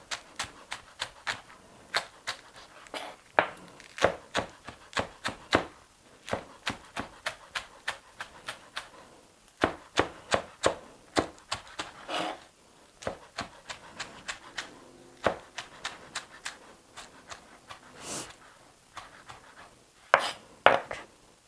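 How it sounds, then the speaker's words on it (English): A knife chops a filling ingredient thinly for galapao, sounding as steady, crisp taps on a cutting board in quick runs with brief pauses, close and clear, with no talking. "Chop it thin."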